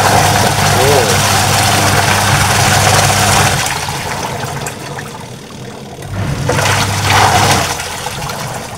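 Washing machine with its motor mounted underneath running with a steady low hum and watery churning, fading and then returning, while someone talks over it.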